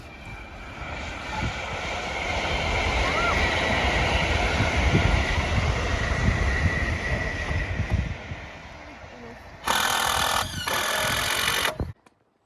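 A train rumbles steadily past, its broad roar filling the scene for several seconds before a brief harsher burst and an abrupt cutoff.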